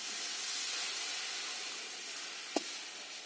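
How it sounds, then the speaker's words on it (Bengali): Water poured into a hot pan of sautéed chicken gives a steady broad hiss of steam and sizzle throughout, with one brief tap near the end. "এবার সেদ্ধ হওয়ার জন্য আমি অল্প একটু জল দিয়ে দেবো"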